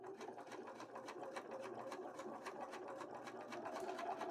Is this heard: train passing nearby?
no